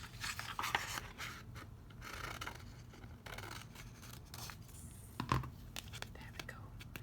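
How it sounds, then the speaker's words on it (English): Scissors snip through paper card while an exploding box card is being made, giving soft, close crisp cuts with a couple of sharper snips, under quiet talking. "I'm just going to use my scissors."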